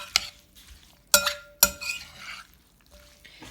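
Fermented peach salsa stirred together in a bowl, giving a few sharp clinks of a utensil against the bowl between soft, wet mixing sounds, quiet and close with no talking.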